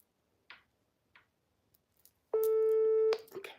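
A telephone call tone sounds as one steady electronic beep lasting just under a second, preceded by a few faint clicks in an otherwise quiet room.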